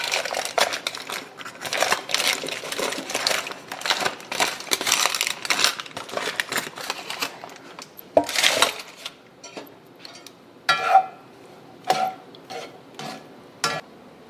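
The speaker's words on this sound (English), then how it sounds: "I'm going to mix the potatoes in here" Potatoes are mixed into burrito filling in a pan or bowl, with a run of close, crunchy stirring scrapes and clinks. The strokes come in uneven bursts that thin out toward the end.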